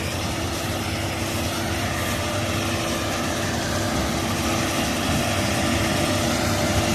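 Engine of a KZS 812 combine harvester running steadily after a repair to the cylinder group, a loud continuous diesel drone with a constant low rumble and no talk.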